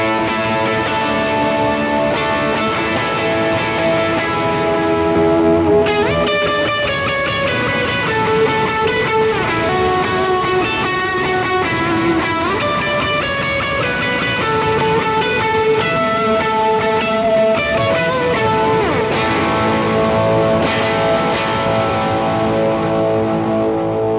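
Overdriven electric guitar playing sustained chords and lead notes, boosted and washed in reverb and echoing delay, with no voices.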